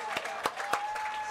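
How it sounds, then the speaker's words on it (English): A few scattered claps ring out at an even pace in a baseball press box, a small sparse round of applause rather than a crowd, with a steady faint tone underneath. "So a little bit of an applause up here in the press box."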